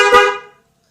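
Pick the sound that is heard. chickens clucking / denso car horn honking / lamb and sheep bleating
denso car horn honking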